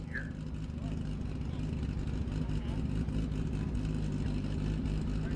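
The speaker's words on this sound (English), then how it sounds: "that is a AA street roadster roaring on the course" A loud, steady engine drone with deep low rumble throughout from a AA street roadster land speed race car running hard at a distance on the El Mirage dry lake course, with no clear revving peaks.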